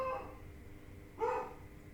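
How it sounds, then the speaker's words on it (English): A house dog lets out a single short bark partway through, moderately loud against a quiet indoor background with no talking. "There's my dog."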